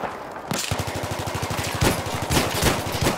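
Sniper fire and other gunfire in a Battlefield 3 multiplayer team deathmatch come as a rapid stream of repeated loud shots throughout, with heavier blasts standing out near the end.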